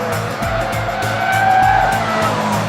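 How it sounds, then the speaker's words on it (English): Mitsubishi Lancer Evolution tires squeal through a racetrack corner, a loud sustained howl riding over the engine's pulsing roar, close and continuous. "You hear the tires are howling"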